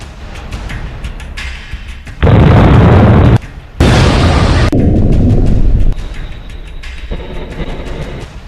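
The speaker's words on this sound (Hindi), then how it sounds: "Hellfire missile" A Hellfire missile explosion: loud, sustained booming blasts in two heavy bursts separated by a brief gap, with rumbling roar before and after and no speech.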